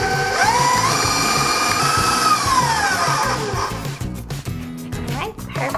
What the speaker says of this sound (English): All right, now we're going to mix it again.